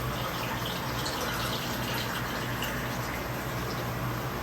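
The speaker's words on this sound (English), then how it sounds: "Now we're going to put a cup full of cold water" Cold water runs from a kitchen tap into a cup, a soft continuous gushing stream heard fairly faintly and steadily, with no talking.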